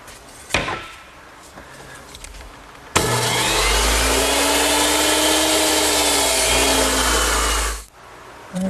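A power saw rips through one end of a wooden rail in a woodworking shop: a few faint handling knocks, then a loud steady whining cut lasting about five seconds before spinning down abruptly.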